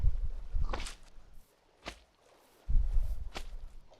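Slime mob from the video game Minecraft making soft squishy, wet thuds in a few separate bursts, fairly quiet with brief gaps of near-silence between them.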